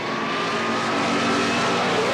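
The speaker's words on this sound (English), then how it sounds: "This is Dale Hall, the only front-engine dragster left in Pro Comp Eliminator, powered by a small block Chevrolet, also supercharged and running on alcohol" A supercharged, alcohol-burning front-engine dragster with a small block Chevrolet races in Pro Comp Eliminator at the 1977 NHRA Springnationals, a loud sustained engine roar that builds steadily without a break.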